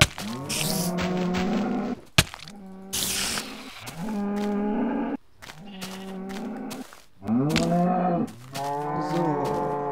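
Cows in the Minecraft video game moo repeatedly, several long drawn-out lowing calls following one another closely, loud and near, with a brief sharp click between calls and no speech.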